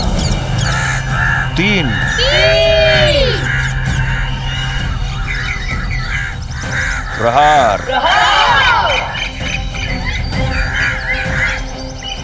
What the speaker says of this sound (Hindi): ये अचानक से सारे पक्षी क्रंथन करते हुए अयोध्या की ओर क्यों जा रहे हैं?